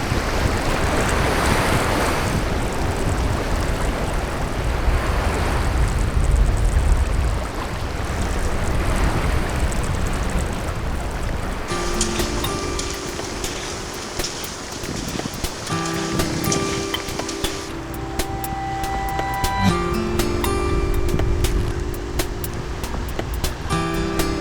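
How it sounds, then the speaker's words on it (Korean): Incoming tide waves wash over a sandy beach with a continuous broad surf roar, which later continues under a layer of tonal background sound. "밀물이 시작된다"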